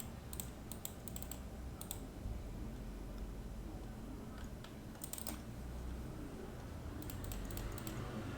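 A number is typed on a computer keyboard in short, faint bursts of clicking keystrokes, separated by quiet pauses.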